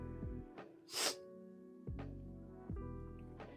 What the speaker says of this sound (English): Started sneezing like crazy